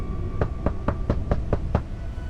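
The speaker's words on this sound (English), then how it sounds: "there was a knock at the door" Seven quick, evenly spaced knocks rap on a door, moderately loud and close against a low steady background hum, with no voices.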